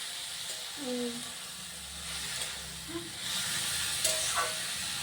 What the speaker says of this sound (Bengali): শাক ভাজা হচ্ছে এখানে